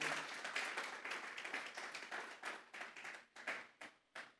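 A church congregation claps together as an offering of praise, loose applause that gradually thins into separate rhythmic claps and fading bursts, moderately close and without talk.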